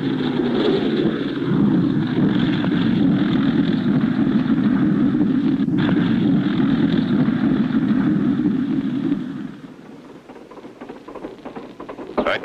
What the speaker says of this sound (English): I taxied the plane closer to the camp so we won't have so far to walk.